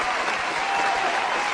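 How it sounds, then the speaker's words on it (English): A brief, steady round of applause, dense clapping from an audience filling the whole moment without pause. "Let's give a round of applause to toilets, our wonderful sponsor for the Biggest Schlorp Pile"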